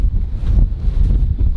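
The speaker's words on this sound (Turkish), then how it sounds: "arkadaşlar biraz rüzgar var, kusura bakmayın" Wind gusting straight onto a microphone by the sea, giving a loud, steady low rumble and buffeting that covers everything else for the whole stretch.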